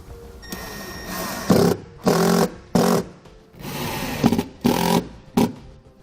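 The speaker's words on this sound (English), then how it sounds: "we'll just run the screws in to our 3 holes around the outside" A powered driver runs screws into the three mounting holes of a Valterra electrical cable hatch on an RV, giving several short, close whirring bursts separated by brief pauses, with no talking.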